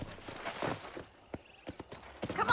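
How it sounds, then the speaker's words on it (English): Hooves of a horse in Red Dead Redemption clop in a short, uneven run of sharp knocks on a hard surface, fairly close and moderately loud, with no talking. "let's see if you can still ride a horse"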